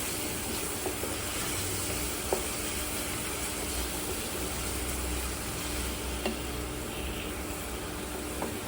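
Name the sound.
stirring prawn curry on an induction cooktop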